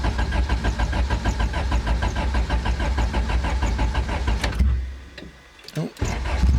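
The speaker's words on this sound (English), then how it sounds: "Maybe this car will start now." A Honda D16 car engine with VTEC cranks with a rapid rhythmic churn for about four seconds, then catches after a short pause and settles into running, close and loud.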